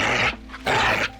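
A dog makes two short rough growling bursts separated by a brief pause, close and fairly loud.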